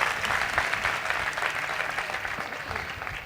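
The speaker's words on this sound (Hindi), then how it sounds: "आओ ऐसे बादशाह के लिए जोरदार तालियां बजाओ।" A church congregation claps loudly during a Palm Sunday sermon, dense continuous applause from many hands filling the space and holding steady throughout.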